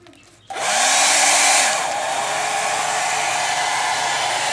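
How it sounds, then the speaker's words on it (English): A hair dryer on a low setting switches on and blows steadily at a chicken, a close, loud, continuous rushing whoosh that eases slightly after a second and holds on. "I'm going to take my dryer on a low setting."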